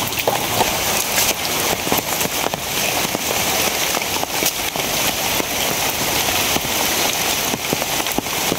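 Sudden heavy rain pours down in a rural village, a dense continuous hiss of drops striking surfaces with scattered sharper patters, loud and unbroken with no voices.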